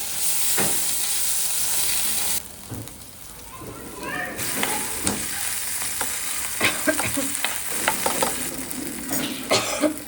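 Asafoetida and ginger-chili paste sizzling in a pan of samosa filling: a loud, steady frying hiss that drops briefly when the paste goes in, then resumes with scattered crackles and stirring scrapes, with a voice talking over it.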